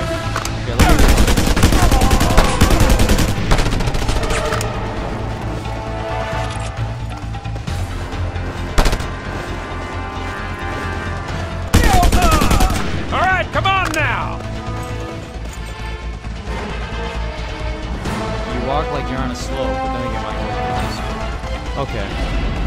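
Gunfire in the video game Just Cause 2: loud bursts of rapid shots and crashes, one near the start and another around the middle, separated by quieter in-game sound, with someone talking over parts of it.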